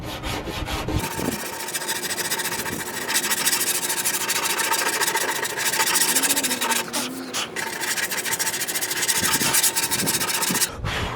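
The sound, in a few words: sanding body filler by hand with 80 grit sandpaper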